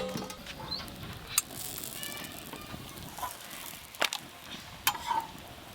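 A paratha fries on a hot tawa over a strong flame with a steady, low sizzle, close by, broken by a few sharp clinks and taps of utensils.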